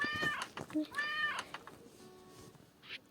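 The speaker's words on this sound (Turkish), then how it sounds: "Oo yavru kedilere bak Enes." Kittens in the 12 Locks video game meow several times in short, bright, rising-and-falling cries, fairly close and clear, with a softer squeak near the end.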